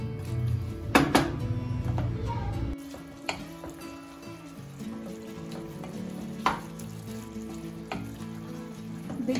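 Mutton frying in a pan for tahari, a soft steady sizzle with occasional clinks and scrapes of a spoon against the pan, heard close and without talk.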